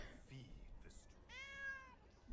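A cat lets out one clear drawn-out meow at close range in a quiet room, after a few faint softer sounds.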